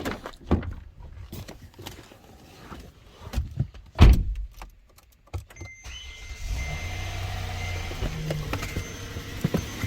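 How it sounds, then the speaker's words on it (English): A 2015 Kia Sedona minivan being started after an alternator replacement: scattered clicks and thunks from the cabin, then the engine catches around the midpoint and settles into a steady, close idle hum. "Let's go ahead and turn the car on and see what it reads."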